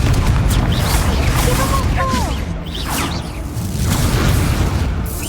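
Booming spell blasts and whooshing impacts from a Hogwarts Legacy duel fire one after another over dense, loud game combat noise, with a voice shouting spell names.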